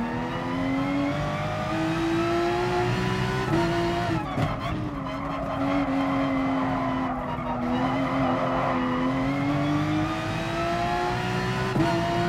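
A GR.3 race car in Gran Turismo Sport roars around the Nürburgring, its engine droning loud and steady, rising and dipping with gear changes, with brief tire squeals along the way.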